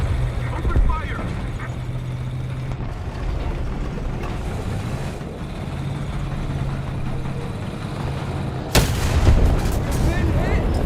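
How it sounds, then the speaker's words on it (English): Artillery strike in the combat video game Delta Force: dense, continuous rumbling barrage with booms and gunfire, a sharp loud blast near the end, with voices shouting over the battle. "Enemy forces have captured a zone. Artillery strike."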